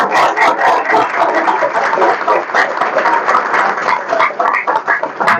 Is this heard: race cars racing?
no